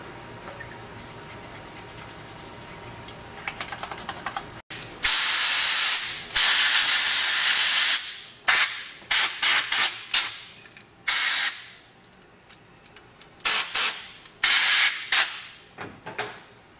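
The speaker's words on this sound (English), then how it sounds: "We just used basic mineral spirits and then just air chucked it out." Mineral spirits sprayed and compressed air blown through a gun to degrease it: faint handling noise at first, then a long loud hiss of spray followed by a series of sharp, short air blasts in irregular bursts.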